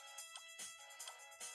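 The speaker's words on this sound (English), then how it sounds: "That's the phone call." A phone rings in the Delicious Emily's Taste of Fame cooking video game, a quiet electronic ringtone of repeated short bursts in a steady rhythm with no talk.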